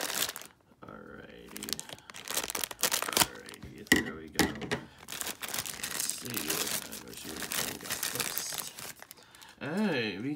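A Funko Mystery Minis blind box is cut open with scissors and unwrapped, giving sharp snips, crinkling foil and cardboard rustles in irregular bursts, up close and loud, with a voice talking between sounds.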